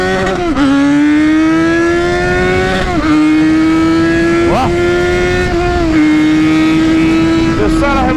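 A remapped Yamaha XJ6 motorcycle engine revs loudly and steadily with rising and falling pitch, held high for several seconds with brief throttle dips, close and continuous.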